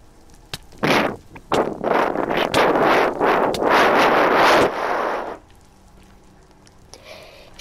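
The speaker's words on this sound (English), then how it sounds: "It's very windy outside." Strong wind blows outside, coming in loud gusting bursts that buffet and roar for several seconds before dropping off abruptly into a quieter hiss near the end.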